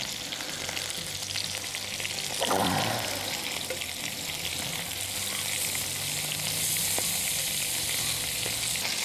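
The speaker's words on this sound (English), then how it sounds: "now just goes in some butter" Butter sizzles and fries steadily in a cast iron pan over an open cooking fire, a continuous crackling hiss with a brief louder burst as it hits the hot metal, no talking over it.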